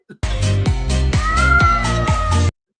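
A cat meows loudly and repeatedly, roughly six drawn-out, wailing cries in quick succession, close and clear with no talking, then the sound stops abruptly.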